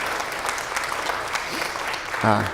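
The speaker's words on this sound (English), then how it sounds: "thank you for the applause" Applause from a church congregation during a Sunday worship service, a steady wash of clapping throughout with a brief voice surfacing near the end.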